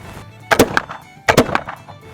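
Two sharp bangs about three quarters of a second apart, each with a quick bright crack and short decay, from a Kibler Woodsrunner muzzleloader rifle firing 70-grain powder charges outdoors, with no talk.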